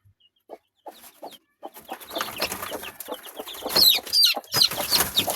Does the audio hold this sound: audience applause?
no